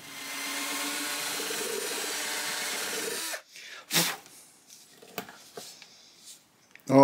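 A power drill bores a hole for the output jack in a Kay Old Kraftsman single cutaway archtop guitar, running steadily for about three seconds, then stopping, followed by scattered handling knocks and a loud final clunk.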